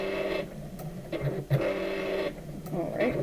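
Home sewing machine running in short bursts during a quilting sew-along, a whirring mechanical hum that stops and restarts with clicks and thumps, fairly quiet and close.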